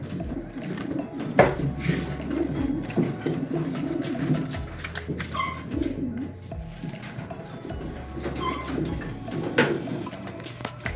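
Pigeons meant for wedding release coo and flutter at a loading area, with soft repeated cooing calls close by over a steady low hum and occasional bumps and clatter.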